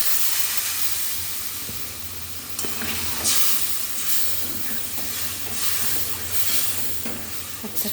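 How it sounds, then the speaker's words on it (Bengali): Water poured into a hot pan of simmering potato curry for dal puri, raising a steady hiss and sizzle with bursts of steam and bubbling, loud and close with no talk. "কষানো হয়ে গেছে, এবার জল দিয়ে দিচ্ছি"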